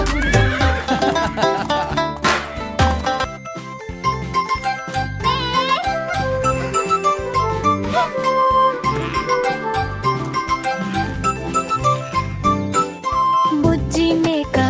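A nursery rhyme track with a horse neighing, clip-clopping hooves and jingling bells over loud, continuous music and sung vocals.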